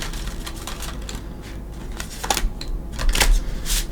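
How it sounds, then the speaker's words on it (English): A tarot deck is shuffled by hand in a series of short, crisp riffling bursts and soft slaps, close and moderately loud, with no talking. "But I know many people appreciate a reader shuffling while they're here also."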